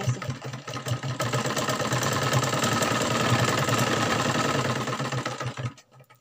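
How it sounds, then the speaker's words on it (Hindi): Sewing machine running continuously while stitching a palazzo, a loud, fast, steady mechanical rattle that holds for several seconds and then stops abruptly. "सारे में मैं इसी तरह से सिलाई मारूंगी"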